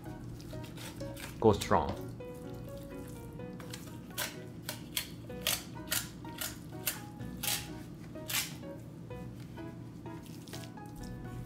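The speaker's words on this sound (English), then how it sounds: "slide your knife around the tail, like this. And cut all the way." A knife is drawn around the tail of a salmon being prepared for sushi. Soft wet slicing and squishing sounds come with faint clicks and taps against a low hum, and a short bit of speech is heard.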